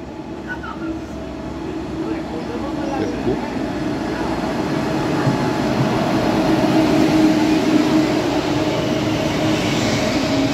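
A KTX-Sancheon high-speed train from Masan to Seoul pulls into Jinyeong station with a steady, loud rail rumble that swells gradually as it approaches and runs through.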